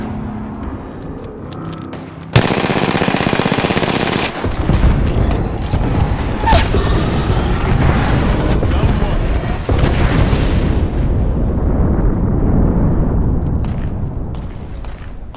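Airstrike barrage in Apex Legends, a dense sustained roar of explosions and gunfire rumbling for over ten seconds, loud and continuous with sharp blasts layered over a heavy low rumble.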